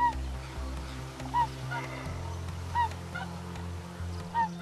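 Swans call among white adults and grey young birds, with repeated honking cries spaced a second or so apart over a steady low rumble, fairly close and clear.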